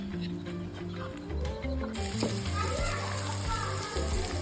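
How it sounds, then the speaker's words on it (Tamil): Onions sauté in oil in a pan for beef masala, a soft continuous sizzle under a busy background of children's voices and talk. "ஆனியன் நல்லா வதங்கிடுச்சு"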